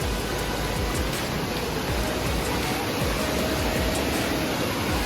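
A strongly flowing waterfall at Khlong Lan in Kamphaeng Phet, heard from right beneath the falls as a loud, steady, dense roar of rushing water with no pauses.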